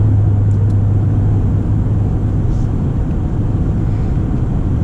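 A 2019 Ram 1500 Big Horn pickup with a 5.7L HEMI V8 towing a camper cruises down the road, giving off a steady, loud low rumble with a constant engine drone and road noise and no breaks.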